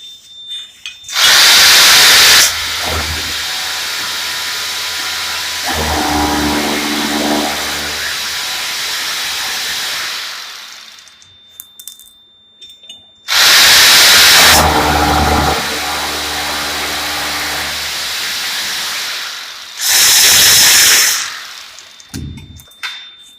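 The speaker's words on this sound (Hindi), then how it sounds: "तो अभी इसको हम पहले ड्रिल करते हैं।" A power drill bores into a wall at 1.2 m height to mount a fire extinguisher bracket, with two loud, sustained bursts of whining drilling separated by quieter stretches, then a shorter final burst.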